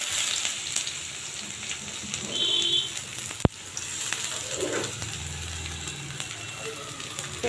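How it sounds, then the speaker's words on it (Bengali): Onions go into hot oil for a thin fish curry, giving a continuous close sizzle and crackle with a sharp clink partway through as the frying carries on steadily. "এখন আমি পেঁয়াজ দিয়ে দিব।"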